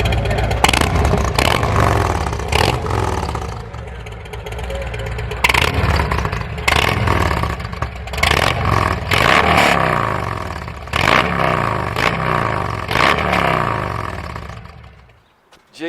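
A Harley-Davidson Road Glide Special fitted with a Bassani 2x2 header pipe is revved repeatedly, loud throaty blips rising and falling in quick succession before the engine drops away at the end.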